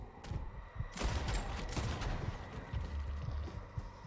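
A couple of sharp gunshots in a video game crack out close by, with the second one leaving a rough, noisy tail over a low rumble. No one speaks.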